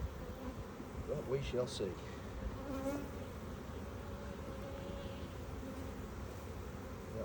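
Honey bees hum around an opened hive during a beekeeping inspection, a continuous low buzzing drone under a man's brief speech.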